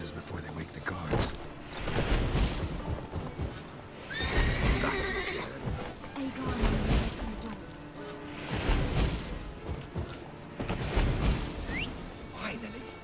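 Horses in The Witcher 3 video game neigh and whinny repeatedly in loud bursts, with hooves clopping and shuffling between calls, and a voice speaking intermittently.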